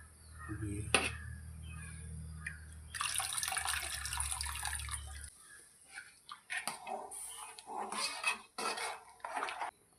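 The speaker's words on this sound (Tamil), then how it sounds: "கரைச்சி வச்ச புளி ஆட் பண்ணிக்கோ" Tamarind water is poured into a simmering fish curry gravy, a steady liquid pour that runs for several seconds, then gives way to clinks of utensils and pan handling in a home kitchen.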